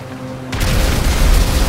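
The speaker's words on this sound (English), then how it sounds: "Kneel down and plant the explosive." A planted explosive detonates in GTA V, a sudden loud boom that bursts in after a quiet moment and rolls into a sustained roaring rumble.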